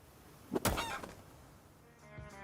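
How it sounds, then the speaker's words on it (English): A chicken in the video game Project Zomboid lets out a short, loud squawk when it takes damage, followed by quieter clucking. "chickens now have a new sound and animation when they take damage"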